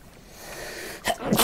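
One sharp human sneeze bursts out near the end after a quiet lead-in, close and clear with no talk over it.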